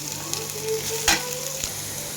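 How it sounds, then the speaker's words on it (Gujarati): Green maize kernels fry in oil over a low flame while a spoon stirs them. The steady close sizzle is broken by one sharper scrape of the spoon midway. "આને ધીરા ગેસે આપણે ચમચો ફેરવતું રહેવાનું છે અને પાકવા દેવાની છે"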